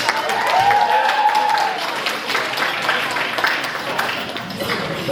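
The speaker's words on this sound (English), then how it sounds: "We'll give him another round of applause." A banquet audience breaks into a round of applause, a steady spread of clapping across the room with voices and cheers mixed in, holding at a moderate level throughout.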